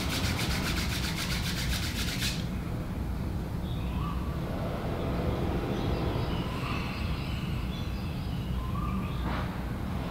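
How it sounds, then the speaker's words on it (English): Palms rubbed briskly together to warm them during a yoga session, a steady close dry swishing that runs unbroken for about ten seconds, with a brief rapid ticking texture in the opening two seconds and no talking. "Rub your palms,"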